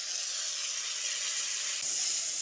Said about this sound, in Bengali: এবার রসুন ও টমেটোটা দিয়ে ভালো করে কষিয়ে নিচ্ছি